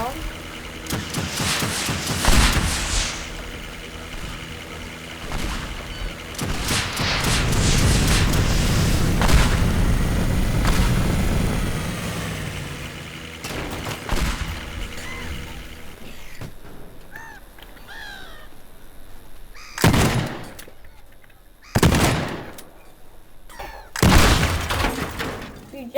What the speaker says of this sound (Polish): Widzicie jak wybuchło?